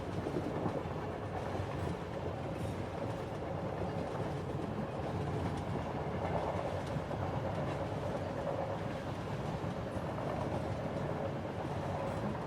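A night train running on rails, heard as a steady low rumble with rhythmic clickety-clack from inside a carriage, continuous and moderately loud throughout.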